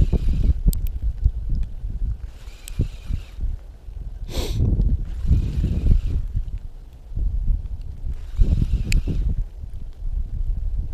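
Gusty wind blowing in the face on a snowy riverbank buffets the microphone with low rumbling bursts that swell and ease, plus a faint brief whistle partway through; no talking.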